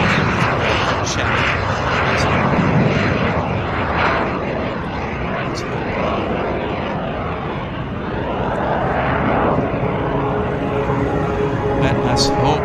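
Frecce Tricolori jets at the CFB Cold Lake airshow media day give a steady, loud, broadband roar throughout, swelling and fading slightly as they fly a weather check, while an announcer talks over it.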